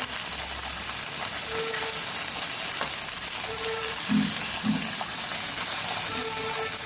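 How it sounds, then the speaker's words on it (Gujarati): Chopped tomatoes sauté in a pan over medium gas for chutney, giving a steady close sizzle with occasional soft clinks as pieces are turned. "બે સાઈડ આવી રીતે પલટાવતા પલટાવતા આપણે સરસ સાતળી લેવાનું છે"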